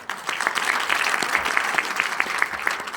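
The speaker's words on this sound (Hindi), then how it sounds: "तालियां जरा हो जाए पूरी पहचाने पाकिस्तान न्यूज़ की पूरी टीम के लिए" An audience at a poetry gathering claps for a Pakistani news team, giving a dense, sustained round of applause that stays loud and close throughout, with individual claps standing out.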